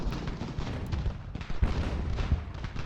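Gunfire and cannon in an Ultimate General: Revolution battle against light infantry: dense, continuous volleys of musket shots with heavy low booms, steady and loud throughout, with no talking.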